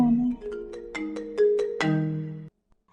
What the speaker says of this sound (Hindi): अननोन नंबर से फोन है।